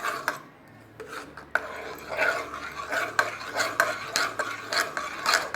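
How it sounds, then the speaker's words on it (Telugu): Sago batter mixed with cumin seeds and dal is stirred in a bowl, producing repeated wet scraping and rubbing strokes in an uneven rhythm, close and moderately loud with no talking. "ఇప్పుడు మనం జీలకర్ర వేసేసుకుందాం అలాగే ఈ పప్పు కూడా వేసేసుకుందాం వేసేసి ఇలా బాగా కలిపేసుకుందాం"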